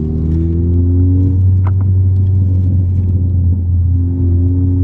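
A Ford ST car idling with a steady low engine drone, then revved so the exhaust gives a brief burst of sharp pops and crackles around the middle, heard close and loud with no talking.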